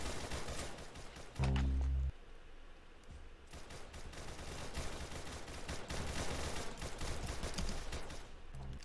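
Rapid gunfire in the Roblox game Arsenal, with dense, continuous bursts of shots running through nearly the whole stretch at moderate level and a short low thump partway in.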